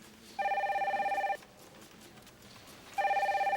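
Telephone bell ringing indoors, two electronic ring bursts of about a second each separated by a pause, clear and close with no talk over them.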